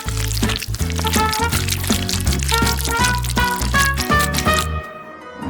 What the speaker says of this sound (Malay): Menuang air ke atas labu-bu ini.